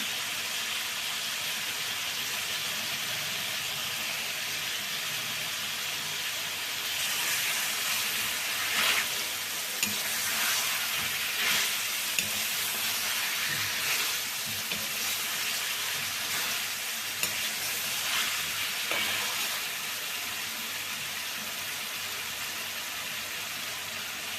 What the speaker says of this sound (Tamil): எண்ணெயிலே அப்படியே வதங்கிட்டோம்